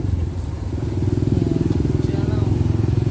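Motorcycles rumble past along a bypass road below a second-floor vantage point, a steady loud engine drone swelling as they go by, with a person talking over the traffic.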